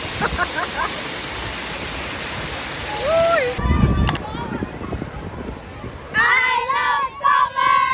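Loud rushing roar of Dunn's River Falls in Jamaica filling the first half, then voices and chatter over a fainter background of flowing water.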